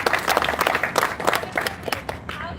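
Small crowd clapping at a groundbreaking and ribbon-cutting ceremony, a short burst of uneven, close handclaps that tapers off quickly.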